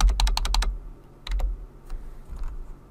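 Rapid keystrokes on a computer keyboard's arrow keys, a quick burst of about six taps followed by a couple more isolated presses, close and clear with no talking.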